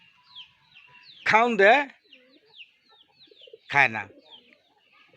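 Chicks going about with a pigeon give short, high cheeps repeated through the clip, faint against a quiet background, while a person speaks briefly twice over them.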